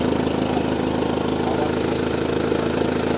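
Car engine running on synthetic oil, a steady close mechanical idle hum with an even, unbroken drone throughout.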